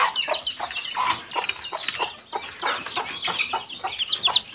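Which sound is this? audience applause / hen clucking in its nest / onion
hen clucking in its nest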